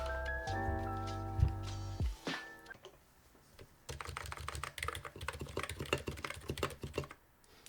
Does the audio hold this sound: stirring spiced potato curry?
no